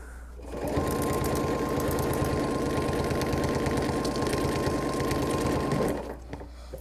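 A sewing machine runs steadily for about five seconds, stitching circles on a quilt, with a fast even mechanical hum and needle rattle that starts and stops abruptly, close and alone without talk.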